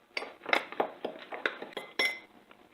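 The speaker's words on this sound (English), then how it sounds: "So you see I'm mixing sugar with cinnamon." Sugar and cinnamon being mixed in a bowl for apple crisp, a utensil tapping and clinking against the dish in quick irregular strokes, close and fairly crisp with short quiet gaps.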